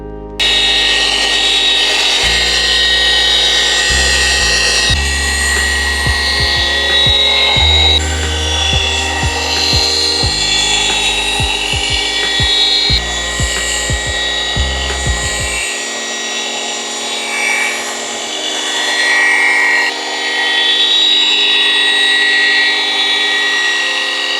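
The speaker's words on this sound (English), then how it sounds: "we are going to use the rotary with our wool pad and the heavy cut compound" Rotary polisher spinning a wool pad with heavy cut compound across BMW M5 paint, a loud steady whine with shifting pitch and rubbing bursts that cut out partway, leaving a quieter hum.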